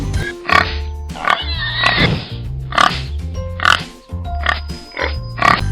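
Pig oinking and grunting in a steady series of short, loud, close snorts, about eight of them spaced roughly a second apart.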